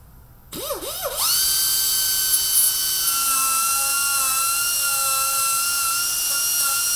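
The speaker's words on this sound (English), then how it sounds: "Now we'll use our angled grinder to do some shaping." An angle grinder shaping a plastic repair spins up to a steady high-pitched whine and holds it close and loud, with the tone shifting slightly as it bears on the plastic.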